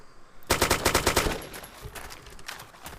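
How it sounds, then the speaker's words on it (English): Suppressive gunfire in the DayZ video game: a fast, loud burst of about ten rapid shots, followed by fainter scattered echoing fire, with no talk. "We're going to fire some more suppressive fire."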